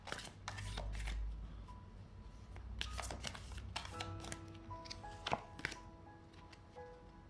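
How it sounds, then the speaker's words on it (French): Oracle cards shuffled and drawn by hand, a soft papery riffle with scattered taps and crisp snaps, close and fairly quiet, with no talk over it. "je vais tirer la petite carte du jour"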